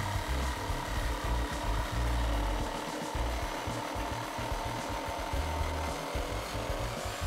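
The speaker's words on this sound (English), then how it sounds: "Now I'm just going to cut the tabletop with a jigsaw directly." Jigsaw cutting through a wooden round tabletop for an outdoor garden table, a steady buzzing, rattling saw sound that runs continuously from start to finish, close and loud with no talk.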